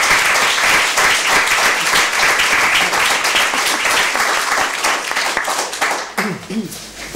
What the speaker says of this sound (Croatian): koji ćemo dati sad jedan veliki aplauz